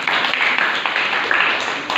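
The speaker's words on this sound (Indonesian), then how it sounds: "Ya, beri tepuk tangan buat kita semua." Applause from a classroom audience after a student group's presentation on gender mainstreaming, a steady, fairly loud wash of clapping lasting throughout with no break.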